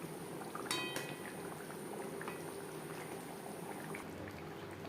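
Silver carp pieces simmer in a spicy curry gravy, giving a steady close bubbling and soft boiling hiss throughout, with a brief clink of a pan near the start and no voices.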